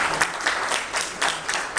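Audience clapping at a healthcare town hall meeting in Brampton, a brief burst of many hands applauding with an uneven, pulsing rhythm, fairly close and filling the room.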